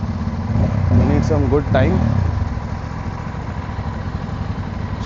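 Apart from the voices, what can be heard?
Aprilia RS 457 motorcycles revving throttle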